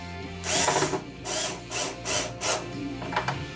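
A screw held on a magnetic bit is driven in with a power driver during a Revolver ARF model build, giving several short whirring bursts with brief pauses between them, close up and with no talk.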